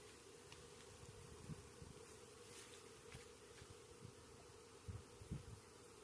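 A dense, steady buzzing of many bees close by, with a few louder passes and light knocks, no voices.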